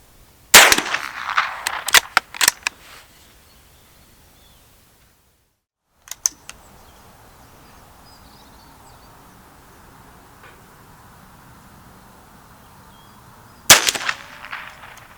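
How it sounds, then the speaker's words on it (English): Shots from a Schmeisser BA15-22 rimfire rifle, a close burst of several sharp cracks early, a couple more after a short quiet gap, then another cluster near the end, with faint outdoor background between. "So I'm just going to shoot one more group."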